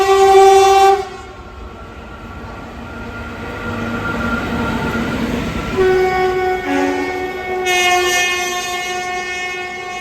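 A main line commuter train runs past during office hours. A loud horn blast opens, then a continuous rumble of rolling wagons follows, with more horn tones sounding near the end.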